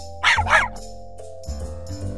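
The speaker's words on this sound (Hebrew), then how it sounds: "כלב" A dog barks twice in quick succession, loud and close, followed by a few softer yips and a low whimpering tone.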